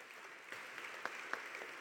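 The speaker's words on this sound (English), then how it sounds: "Could we all please give them a round of applause?" Faint, distant applause from a conference audience at a plenary session, a soft continuous patter with a few sharper claps standing out.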